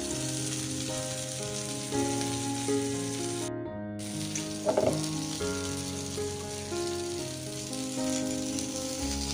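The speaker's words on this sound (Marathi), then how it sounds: "आता त्याला परत जरा 5 मिनिटं दुसऱ्या बाजूने ते फ्राय होईल." Karli fish frying in a pan on its second side, with a continuous, close oily sizzle and crackle and a brief clatter midway. A low steady hum runs underneath, and no one speaks.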